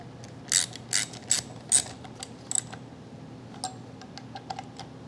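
A ratchet tightens the two wheel cylinder bolts during drum brake reassembly on a 1972 Clark C500-20 forklift, giving four loud clicking bursts followed by fainter, scattered ticks.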